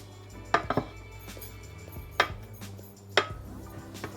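Cooked coconut jeera rice being mixed in a pot, with a few distinct clanks and scrapes of a utensil against the metal rim spaced a second or so apart, close by and fairly quiet.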